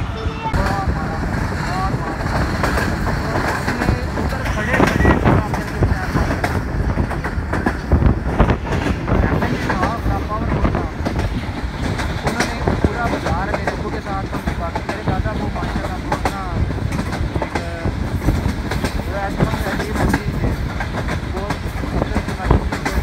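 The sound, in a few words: Millat Express passenger train running on the rails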